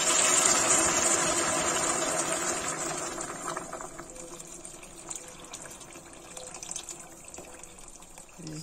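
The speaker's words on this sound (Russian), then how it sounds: "Заливаем его кипяченой водой." Boiled water poured over frying kharcho soup ingredients in a pot, a loud rushing pour with sizzling at first that gradually eases into a quieter, steady trickle and bubbling.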